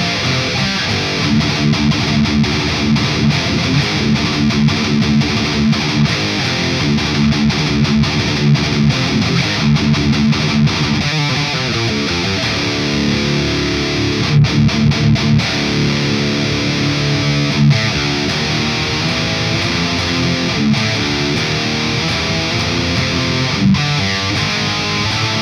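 Heavily distorted Jackson Kelly electric guitar through a Dover high-gain amplifier riffing continuously, thick and aggressive, with chugging palm-muted thrash rhythms throughout.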